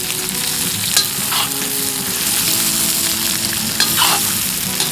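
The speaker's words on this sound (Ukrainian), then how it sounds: "Додаємо грудинку та мисливські ковбаски. Добре перемішуємо." Brisket and hunter's sausages fry loudly for bigos, a close, continuous sizzle with occasional scraping stirs of the pan.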